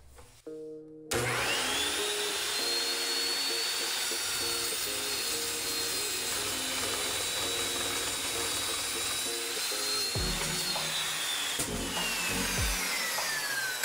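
A power tool cuts a piece of steel for mounting lights on a Jeep TJ, starting abruptly and holding a loud, steady high whine with grinding rasp for about ten seconds before the pitch shifts near the end.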